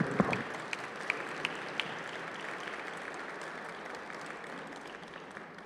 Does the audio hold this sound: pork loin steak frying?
no